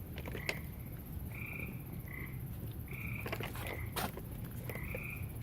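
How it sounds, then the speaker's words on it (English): Frogs croak inside a cave, short repeated chirping calls scattered over a steady low rumble, some loud and near, with faint clicks and shuffling between them. "The frogs are going nuts."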